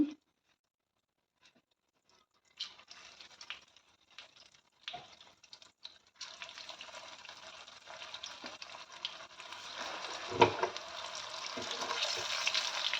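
Wet batter drops into heated oil and begins frying, a quiet start of scattered crackles that builds into a steady, dense sizzle growing louder toward the end.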